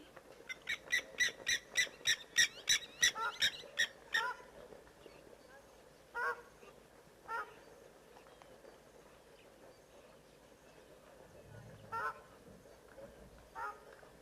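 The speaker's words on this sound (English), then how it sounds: "Why does it sound like a shelduck?" A fast run of loud honking shelduck calls at a wildlife waterhole, followed by a few scattered, fainter calls from farther away, with no one talking.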